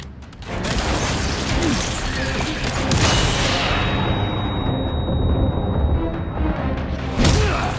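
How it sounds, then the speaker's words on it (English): A flashbang grenade goes off in Resident Evil 4 Remake, a loud broadband burst followed by a steady high ringing tone that lingers for several seconds over dense, continuous game noise. "Flashbang."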